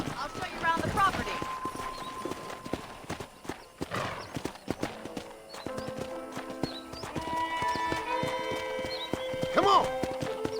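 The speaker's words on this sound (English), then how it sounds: "let's see if you can still ride a horse." In the video game Red Dead Redemption, a horse gallops with steady, rhythmic hoof clip-clops and a brief whinny. Game voices and background sound continue throughout.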